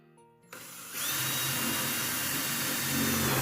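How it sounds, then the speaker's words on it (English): A power drill boring holes in a plastic bucket: after a brief start, a loud, steady, high whine from the drill, held continuously and close. "Just drill some holes"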